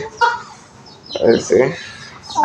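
Young cockerels clucking in short, close bursts with quiet gaps between them, plus a faint voice in the background.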